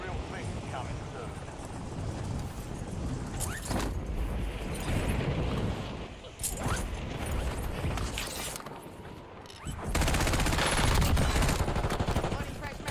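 Gunfire rings out during target practice in the video game Warzone, dense bursts and sharp cracks running through the whole stretch with a loud surge near the end, while voices talk over it.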